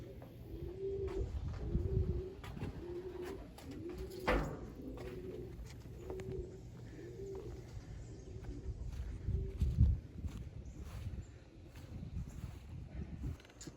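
Racing pigeons coo repeatedly in soft, rolling phrases throughout, with faint chirps and occasional knocks in the background.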